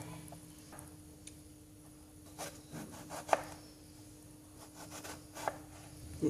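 A knife slicing eggplant thinly on a board for fried beguni, giving a few soft, sparse cutting ticks and taps, close and quiet against low background hum.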